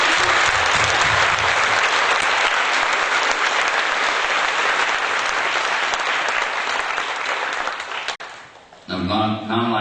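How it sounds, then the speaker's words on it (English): Audience at an adult school event applauds students, staff and volunteers with loud, sustained clapping for about eight seconds. The clapping fades, and a voice begins speaking near the end. "Please join me in giving them a round of applause."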